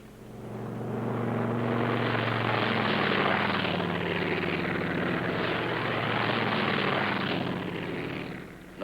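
A military aircraft of 66 squadron takes off in a loud, sustained roar of engines and propellers, swelling over the first seconds and holding steady and close throughout, with no talk over it.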